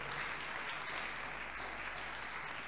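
Church congregation applauding together during a worship service, a dense, steady wash of clapping hands that fills the room at even loudness throughout.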